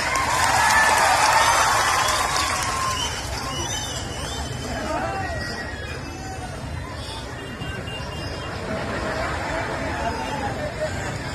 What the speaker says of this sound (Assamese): হাত চাপৰি, ৰেডি?